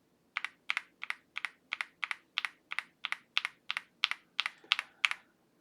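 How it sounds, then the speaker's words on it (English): Oil King linear switches in stock configuration, mounted on a mechanical keyboard, typed in a steady run of about fifteen crisp, deep, evenly spaced keystrokes, close and clear with nothing else heard. "here's what the Oil King sounds like in default stock configuration"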